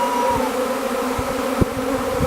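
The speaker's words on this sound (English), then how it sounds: "Now, how all these bees are going to fit in that little nuc, I don't know, but they seem happy enough." A honeybee swarm settling at a small nuc hive, a dense, steady, close buzz of many bees filling the whole stretch with no talk.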